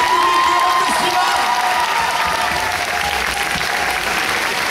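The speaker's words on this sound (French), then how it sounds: "vous pouvez vous applaudir" A festival audience in Marseille applauds in a dense, loud, sustained wash of clapping with scattered cheers, fading only slightly, while a voice talks faintly over it.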